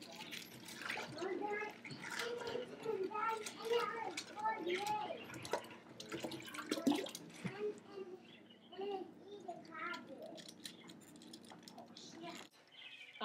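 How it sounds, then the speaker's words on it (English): Cabbage leaves being washed and rubbed in a container of water for kimchi, soft sloshing and splashing with drips, faint and continuous, with voices talking in the background. "I wash the leaves like that and massage in between the leaves"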